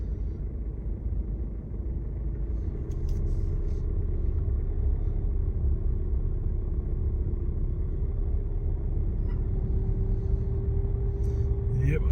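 A vehicle drives slowly through deep floodwater on a harbour road during a storm with high tides and extreme winds, giving a steady low rumble of engine and sloshing water throughout, with occasional voices inside.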